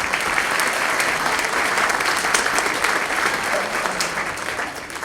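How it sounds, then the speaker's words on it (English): Continuous applause fills a school winter band concert for 7th and 8th grade jazz band saxophone soloists, steady and dense from a large audience for the whole stretch with no spoken words. "Give those soloists a round of applause"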